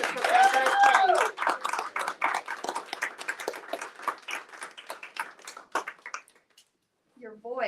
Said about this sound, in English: let's give this great applause to Brenda Ringwood, the Professor of Change